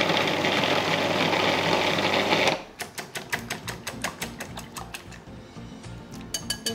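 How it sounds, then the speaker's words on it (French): A blender mixes cooked cauliflower for a flan: a loud, dense whir for about two and a half seconds, then it stops into a string of rhythmic clacking, ratcheting pulses, with no talking. "j'ai une belle partie du chou-fleur qui est là, que je vais mixer"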